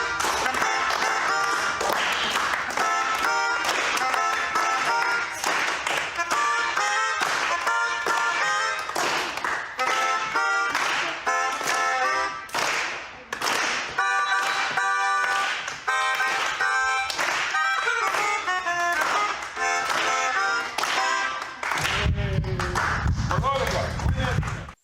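An audience claps along rhythmically over loud music with a keyboard melody, the claps steady and bright across the whole stretch, with a rumbling, noisy burst near the end.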